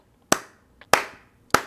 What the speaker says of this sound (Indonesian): kita mesti tepuk tangan sebanyak-banyaknya kepada kedua pemain ini